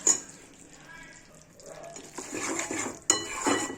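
Wheat flour roasting in ghee for sheera, heard as quiet metal-on-pan scraping and clinks of a spoon that build to louder stirring and a soft sizzle near the end.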